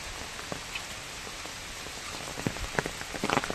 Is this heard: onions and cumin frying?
no